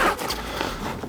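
Zipper on an Osprey Archeon 40 carry-on backpack being pulled open, a single short close rasping run, loud and alone.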